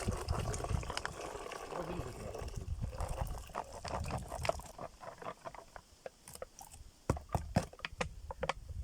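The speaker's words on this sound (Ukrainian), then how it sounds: "Банально виливаємо це все діло в відро." Fermented corn fishing bait liquid pours and splashes into a bucket, a dense close watery gush for the first few seconds that thins into scattered drips and small plops, with a voice speaking briefly.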